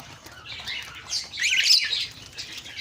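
Breeder birds, including dara, call with bright chirps and tweets, layered and continuous, with a short burst of wing flapping partway through and no talking.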